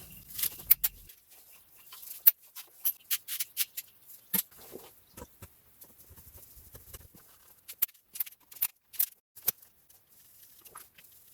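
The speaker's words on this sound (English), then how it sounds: "These are T30 bolts. We've got 6 altogether, so I'm just going to slightly loosen these." Six T30 Torx bolts being loosened on a Mercedes 722.6 automatic transmission sump of a Vito, Viano or Sprinter van, heard as a run of sharp metallic clicks and ratchet ticks, close by and otherwise quiet.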